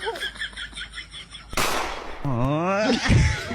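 A sharp gunshot sound effect in a comedy sketch, one abrupt loud crack that cuts in after chatter, followed by a rising, wavering synthetic tone.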